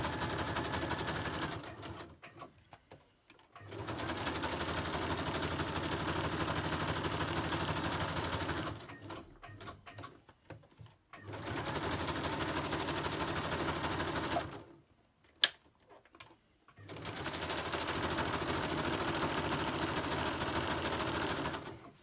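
Sewing machine stitching around a paper journaling card, running in three long steady bursts separated by short pauses with small handling clicks, close and fairly loud with no talking.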